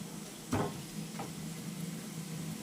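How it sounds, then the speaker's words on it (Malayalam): Washed chicken drops into a hot pan for dem biryani, a brief soft impact followed by a quiet, steady sizzle, faint and close, with no talk. "ആ വറ്റിയിലേക്ക് നമ്മളെ ചിക്കൻ കഴുകി വെച്ചത് ഇതിലേക്ക് ആഡ് ചെയ്യാം."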